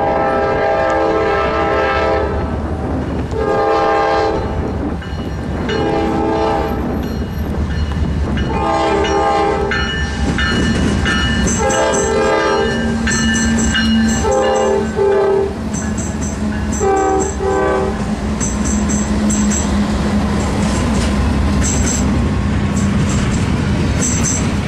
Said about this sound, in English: The engineer gave off a nice little horn show for us.